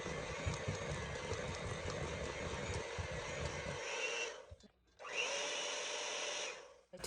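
An electric hand mixer whirs steadily through thick homemade deep-dish brownie batter, a loud continuous motor drone that briefly cuts out and then starts again, with no talking.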